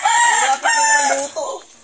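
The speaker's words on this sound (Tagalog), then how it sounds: "mayroon pang background na manok guys" A rooster crows loudly and close by, one long strained call with a few breaks.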